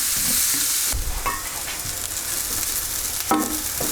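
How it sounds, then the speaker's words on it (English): Onions sizzle steadily in a hot pan as they caramelise, with a few distinct scraping stirs and clanks of a utensil over the continuous frying hiss. "And then go the onions. We want to caramelise these onions"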